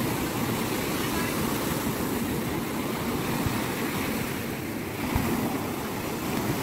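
Ocean waves wash onto the beach at Boracay as a steady, loud broadband roar mixed with wind buffeting the microphone, continuous throughout with no talk over it.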